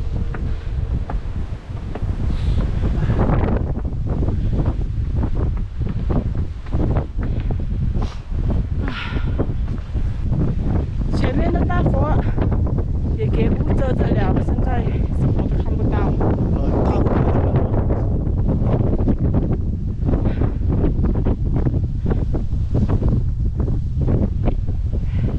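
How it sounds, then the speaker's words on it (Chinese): Strong wind buffets the summit of Mount Fansipan, a loud continuous roar rumbling against the microphone throughout, with people's voices faintly under the gusts. "上面也不能逗留太久，因为那个风真的是太大了。"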